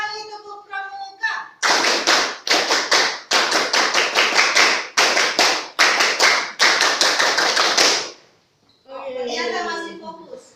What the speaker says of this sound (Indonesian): sekarang 2 kali tepuk pramuka